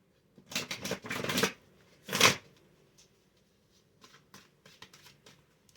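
Quick riffling of playing cards, a couple of short flurries close up followed by faint light taps, in a quiet room with no speech.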